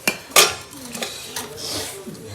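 Spoon clinking against dishes in a home kitchen, with a couple of sharp metallic clatters near the start followed by lighter scraping and stirring sounds, close by and fairly quiet.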